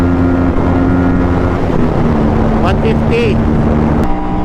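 An Aprilia RS457 motorcycle engine holding a loud, steady high-RPM drone during a test ride, with sustained buzzing tones throughout and a rider's voice talking over it.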